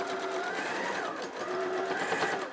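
A sewing machine runs steadily, stitching a seam on a child's jumpsuit, giving a continuous close whirring hum with slight changes in speed across about two and a half seconds and faint background noise.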